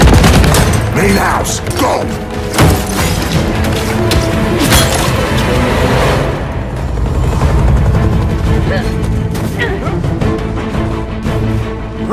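Gears of War 4 combat: dense bursts of gunfire and booming explosions, loud and continuous with metallic crashes, while a voice shouts an order over the battle.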